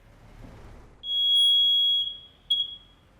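A smoke alarm in an apartment building lets out a piercing high electronic tone lasting about a second, then a shorter chirp, loud against a quiet room.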